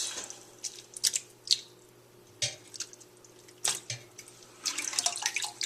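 Cooked ramen noodles rinsed in a cold water bath: close, wet splashing and dripping in uneven bursts, with quieter trickling between them.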